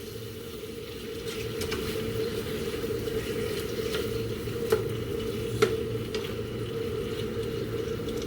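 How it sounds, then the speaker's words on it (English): A chicken pizza bake mixture is stirred with seasonings, giving a steady wet, squishy churning close by, with a few light knocks of the utensil against the dish. "So we can mix the seasonings too."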